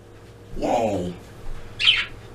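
Pet budgies chirp in a room in the morning, with a single warbling call and then a brief, higher chirp, both fairly close and clear with no speech over them.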